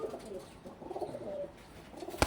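Low cooing from pigeons kept in a loft, a soft continuous murmur nearby, broken near the end by a sharp brief knock.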